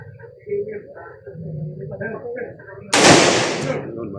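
An M16 rifle fires a single sharp, loud shot during training, its crack ringing out briefly after someone speaks instructions in Filipino, with talk continuing before the blast.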